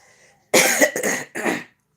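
Three harsh, close coughs in quick succession, loud and abrupt, with near silence before and after.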